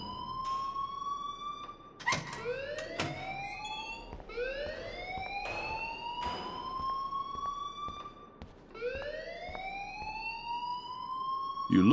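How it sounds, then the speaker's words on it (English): An alarm ringing in the video game Life is Strange, a loud, repeating rising electronic wail cycling every couple of seconds, with a few sharp clanks near the start. "please turn off that alarm since that's your job"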